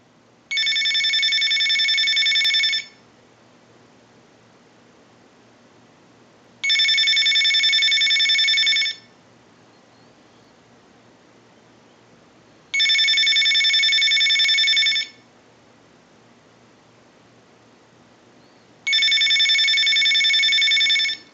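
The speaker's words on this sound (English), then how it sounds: "use the analyzer and send a ring cycle like you were getting a call" A Mickey Mouse Tyco backpack telephone ringing on a line ring cycle, four evenly spaced bursts of bright electronic trilling, each about two seconds long with quiet gaps between, close and clear with no talk.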